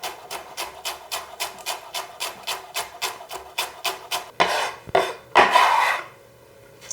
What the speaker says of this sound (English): I'm chopping them a bit finer